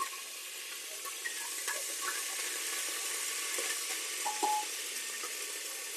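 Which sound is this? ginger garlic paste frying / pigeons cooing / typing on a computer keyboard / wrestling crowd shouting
ginger garlic paste frying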